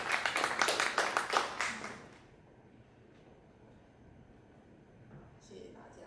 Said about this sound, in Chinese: 那我们就掌声欢迎 Mia